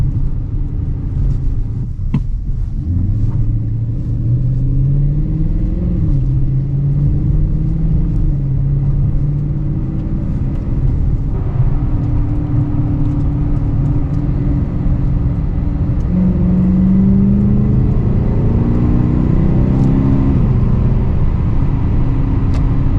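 A Dodge Challenger R/T V8 drives through snow from inside the cabin, its engine a deep steady rumble with rising and falling revs as the car shifts and accelerates, loud and close.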